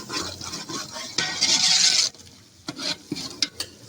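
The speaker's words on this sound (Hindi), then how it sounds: "अब थोड़ा सा साबुत धनिया डालेंगे" Whole coriander seeds hit a hot pan for fish curry, setting off a loud burst of sizzling for about a second, followed by quieter scrapes and light clinks of a utensil against the pan.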